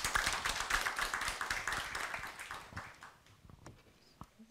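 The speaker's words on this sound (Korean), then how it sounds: "힘찬 박수로 맞이해 주십시오." An audience at a university law seminar applauds to welcome a speaker, a burst of clapping that starts loud and thins into scattered, fading claps and a few taps.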